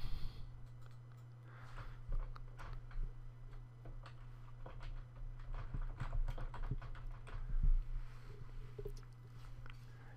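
Someone types a title on a computer keyboard, making a run of light, uneven taps over a steady low electrical hum.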